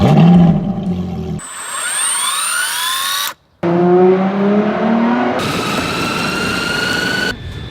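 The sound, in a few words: loud electric skateboard motor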